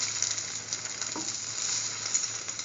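A chickpea, tomato and chili French toast sandwich fries in a pan with a steady, close hiss and soft crackle, even and unbroken, no voices.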